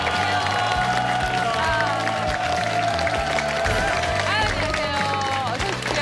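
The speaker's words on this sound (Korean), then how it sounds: "박수로 환영해 주시기 바랍니다." A TV studio audience claps to welcome two guests onto a health variety show, the applause running under loud, steady entrance music with brisk, even clapping throughout.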